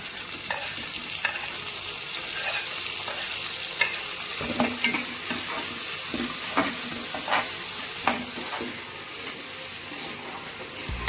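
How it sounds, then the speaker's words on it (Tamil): Onions and tomatoes sautéing for sambar, a continuous loud sizzle and hiss with rhythmic spatula stirs and scrapes against the pan. "சாம்பாருக்கு வெங்காயம் நல்லா அந்த அளவு வதங்க தக்காளி சேர்த்துக்கிறேன்"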